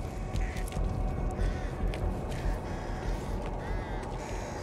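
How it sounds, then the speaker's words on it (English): Crows in the zombie shooter Back 4 Blood caw several times at a distance, short scattered calls over a dense, steady rumble of game ambience. "I love how even birds get highlighted."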